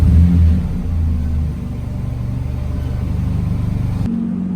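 Nissan GT-R engine rumbling and pulling away on the road toward a car meet, a loud low droning drive sound that shifts as it accelerates, heard from close by without talk.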